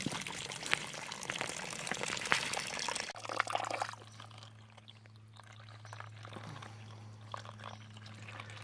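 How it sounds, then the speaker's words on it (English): Cold spring water trickles out of the ground on a fall Appalachian Trail section hike into a container being filled for a gallon of water, a steady near trickle and pour with a faint low hum. "a spring with a trickle of water coming out"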